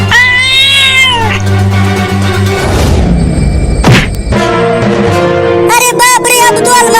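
A cartoon cat meows and caterwauls in loud, wavering cries at the start and again near the end, with a heavy thump between them and Hindi dialogue around it.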